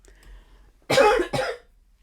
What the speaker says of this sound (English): Sorry about the cough. It happens sometimes.